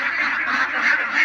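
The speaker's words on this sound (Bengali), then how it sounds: "এই যে হাঁস আছে।" A flock of ducks kept indoors, quacking in a dense, continuous chorus of overlapping calls at close range with no pauses.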